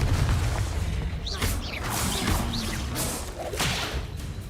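The Confringo fire spell is cast in Hogwarts Legacy, a sharp whip-like crack with bursts and swooshing whooshes layered over dense, continuous game noise.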